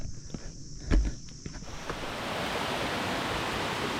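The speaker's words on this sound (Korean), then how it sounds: "계곡이 크진 않지만 등산로를 따라서 계속 물이 흘러가네요. 시원한 물소리가 듣기 좋습니다." Steady rushing water from a small mountain stream along a hiking trail on Gayasan fills the scene, broadband and continuous, with a few footsteps crunching early on before the flow settles into an even wash.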